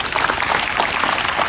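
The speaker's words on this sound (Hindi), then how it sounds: "मैं चाहूंगा लखपत यादव के लिए जोरदार ताली आप बजाएं" Loud, sustained applause from school students at an inter college in Meerut fills the whole moment, dense steady clapping from a large group indoors with no pauses.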